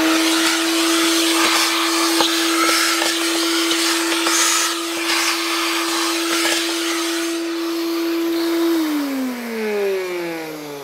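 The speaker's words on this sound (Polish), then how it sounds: "to można to odkurzaczem wyciągnąć" A vacuum cleaner draws dirt out of the air filter housing of a Skoda Octavia 1.9 TDI, a loud steady motor whine that holds for most of the clip, then drops in pitch as it winds down near the end.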